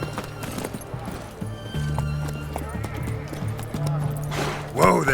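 Roach, a horse in The Witcher 3 game, gallops with rapid rhythmic hoofbeats and lets out a loud whinny near the end, layered over in-game ambience and a voice.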